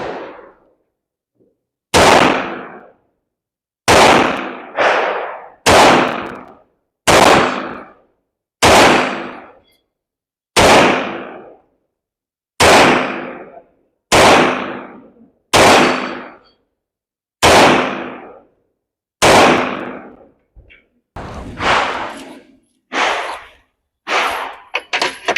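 Loud, close single gunshots at an outdoor shooting range, fired one at a time every second or two with sharp reports and short decaying tails, about fifteen shots in all.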